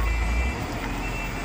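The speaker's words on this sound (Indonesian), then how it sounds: "Untung truk ini remnya masih berfungsi dengan bagus dan ini terpaksa dimundur." A Hino truck reverses down the steep Batu Jomba hill, its engine rumbling low and loud with a steady high reversing tone running over it.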